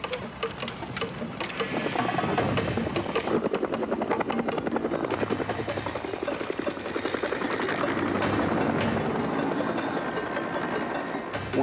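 Military helicopters flying in formation near a missile field make a continuous, fairly loud rotor thumping with a rapid chopping beat that swells slightly and holds steady throughout.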